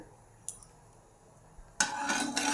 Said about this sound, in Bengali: তেলটা একটু নেড়ে দিচ্ছি একটু তেলটা গরম হয়ে গেলে চিংড়ি মাছগুলো একটু তেলের পরে নেড়ে চেড়ে নেব